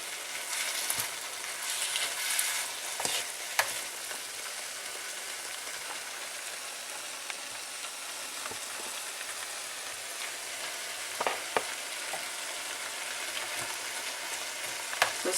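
Fried rice with spices and vegetables sizzles steadily in a pan, with scattered scraping clicks from stirring over a continuous hiss.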